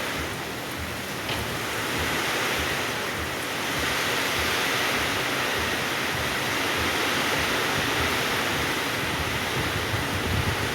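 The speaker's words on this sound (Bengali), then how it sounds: "সকাল থেকে বৃষ্টি হয়ে চলেছে বৃষ্টি থামার আর নাম নেই সঙ্গে ঝোড়ো হাওয়া" Heavy rain driven by stormy wind, a dense, loud and continuous wash of broadband roar that holds steady and swells slightly midway, with no voices.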